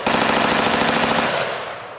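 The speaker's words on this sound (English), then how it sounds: "we are having a blast shooting all these guns" Rapid automatic gunfire at an outdoor shooting range day, a loud close burst of evenly spaced shots lasting over a second before ringing off.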